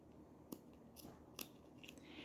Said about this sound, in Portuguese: Agora, eu vou cortar o excesso desse fio.